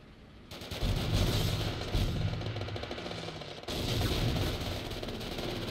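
Sustained rapid gunfire fills a video game battle, dense overlapping bursts that dip briefly and resume, loud and continuous with no talk.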